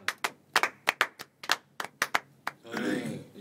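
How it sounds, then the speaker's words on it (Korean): A small audience claps in quick, sharp, separate bursts for a few seconds, close and fairly loud, before a voice starts speaking at the end. "박수를 한번 보내주세요."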